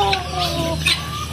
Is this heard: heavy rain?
no